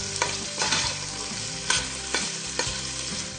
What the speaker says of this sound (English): I'm going to stir this.